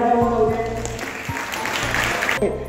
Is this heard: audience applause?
yes